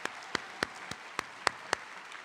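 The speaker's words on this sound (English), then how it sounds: "So round of applause for Maria and Jess." Sparse, evenly spaced hand claps, about eight distinct sharp strikes against quiet room tone, at a high school academic achievement awards ceremony.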